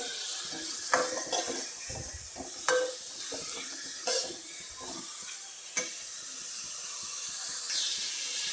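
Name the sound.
onion and tomato tempering sizzling in pan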